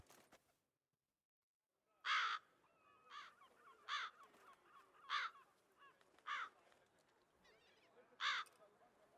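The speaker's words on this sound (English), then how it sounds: "Birds." Crows caw in The Witcher 3, a series of about six sharp, harsh calls spaced roughly a second apart over a quiet ambient bed, fairly faint overall.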